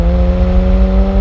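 A 1996 Ferrari F355 Spider engine holds a loud, steady high rev close up, its sustained tonal whine running unbroken before cutting off abruptly at the end.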